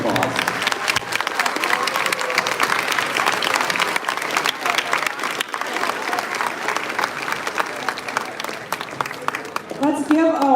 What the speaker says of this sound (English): Let's give our class of 2023 a huge round of applause.